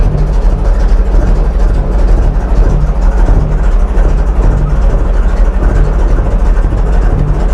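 A Mercedes 450SL engine idling very low with a suspected vacuum fault, a loud, close, steady low rumble with a faint rhythmic pulse throughout, no voices over it.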